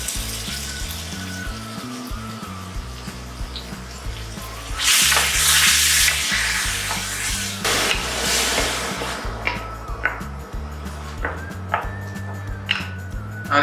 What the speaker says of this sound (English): Now let's wait for 2 minutes until this tomato puree gets a little bit cooked.